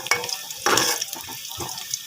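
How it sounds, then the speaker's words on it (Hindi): Sliced onions sizzle in hot oil in a pan as they brown for savoury vermicelli, with crackling bursts and a few stirring scrapes, close and fairly loud with no talking. "तो जी प्याज़ों को हमने हल्का सा ब्राउन करना है"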